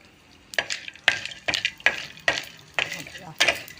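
Edible gum (dink) frying in ghee in a pan, stirred in short repeated scrapes about every half second over a light sizzle, close and fairly loud, with no talk.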